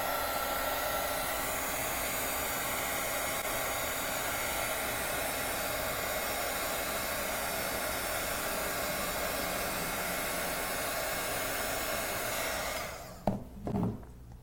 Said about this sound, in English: So I'm just going to dry this, and then I'm going to apply a second color